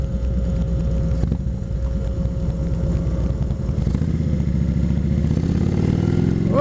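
Motorcycle on an early-spring road ride, engine running steadily close to the microphone with a rhythmic low throb and rising revs toward the end, loud throughout with no talking.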